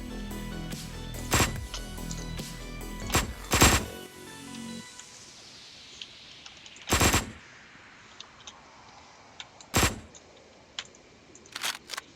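Video game gunfire from Axiom Verge 2, a few sharp electronic shots spaced out over the clip, some ringing with long decaying tails against a quiet background, with a busy burst of clicky shots at the start.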